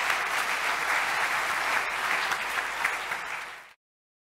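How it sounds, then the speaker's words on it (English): An audience applauding steadily and loudly for a few seconds, the clapping then cutting off abruptly into silence. "You're getting a nice applause."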